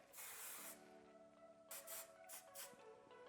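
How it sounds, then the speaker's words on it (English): Hairspray sprayed onto a messy bun in several short hissing bursts, one longer spray first then quick pairs of puffs, close and fairly loud. "you can set it with a little hairspray"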